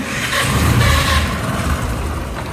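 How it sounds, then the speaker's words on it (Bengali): A 2017 Bajaj Discover 100 cc motorcycle with about 24,000 km on it idles with a steady, close engine rumble and exhaust note, running evenly without revving and with no talking. "এটা ফ্রি অ্যাক্সেলেটারের ইঞ্জিনের সাউন্ড"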